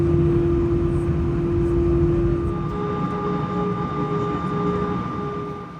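Inside a TAROM Airbus A318 airliner taxiing at Bucharest Airport, a steady cabin hum and engine whine with sustained tones hold at a constant, moderately loud level, with no talk.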